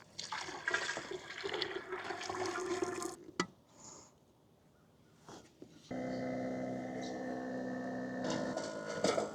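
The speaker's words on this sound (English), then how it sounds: "Let's mix up our thin paint and pour it into the machine, pressurize it, and get to striping." Thin traffic paint is poured into a Trueline striper machine for parking-lot striping: a gurgling liquid pour, a short pause, then a steady, fairly loud machine hum as the unit runs.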